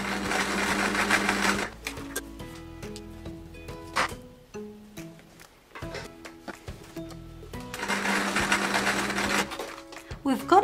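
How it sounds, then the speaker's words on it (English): A domestic sewing machine stitches patchwork quilt panels in two loud, close whirring runs at the start and near the end, separated by a quieter stretch of clicks, knocks and handling of fabric and parts. "I'm now going to stitch the other side."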